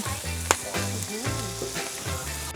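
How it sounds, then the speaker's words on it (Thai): Steady crackling sizzle of pork frying on a hot Thai tabletop grill at a campsite, continuous and close, with a brief sharp click partway through and faint background voices. "ตอนนี้หมูกระทะพร้อมแล้วค่ะ เตรียมกิน"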